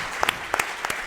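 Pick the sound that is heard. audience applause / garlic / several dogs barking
audience applause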